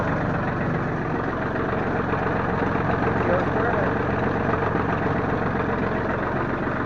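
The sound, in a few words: John Deere 4310 tractor engine idling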